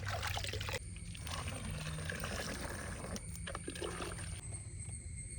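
Humic acid poured into water in a container for garden use, a continuous splashing trickle that stays fairly loud and steady and is heard on its own.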